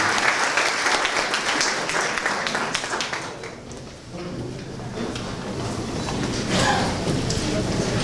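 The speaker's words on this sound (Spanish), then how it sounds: "Recibamos con un fuerte aplauso al doctor Giovanni Bosch Agudelo." An audience welcomes Dr. Giovanni Bosch Agudelo to a legal lecture with sustained applause, a crisp, continuous clatter of many hands that dips briefly midway then swells again, with some background speech mixed in.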